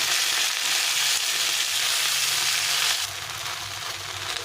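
Garlic with taro greens frying in hot oil in a pan, making a loud, dense, continuous sizzle up close that eases slightly partway through.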